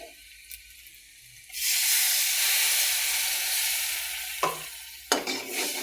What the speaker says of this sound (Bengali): এখন একটু পানি দিয়ে দেব